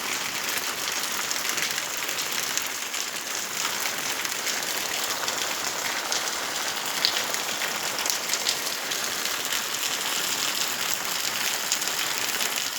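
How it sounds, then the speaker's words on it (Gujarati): Early-morning rain falls steadily in Rajpipla, a dense, even patter on surfaces that holds at the same loudness throughout without a break. "ખેડૂતો માટે પણ આ વરસાદ બહુ સારામાં સારો કહેવાય"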